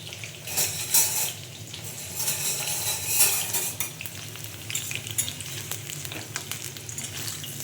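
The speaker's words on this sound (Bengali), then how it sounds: "আলুটা ভেজে কষে নেবো।" Potatoes frying in a pan, a continuous sizzle with metal spatula scrapes and clinks as they are turned and stirred, close and moderately loud, without talk.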